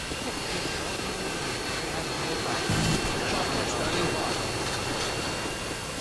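Chopper gunner helicopter in the video game Modern Warfare 2, a dense continuous rotor and engine drone that fills the scene, with a faint voice talking underneath.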